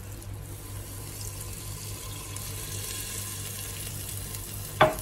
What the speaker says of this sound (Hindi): ये एक ग्लास भरकर मैं इसमें पानी ऐड कर रही हूँ।